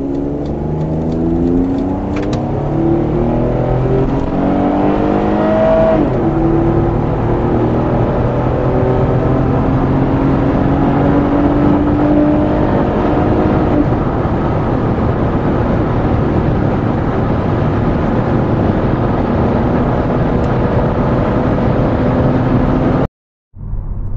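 A 1997 Vauxhall Omega 2.5-litre V6 automatic pulls hard toward 100 mph, engine note climbing steadily through two gear shifts with rising harmonics, loud and continuous with road and wind roar, ending abruptly.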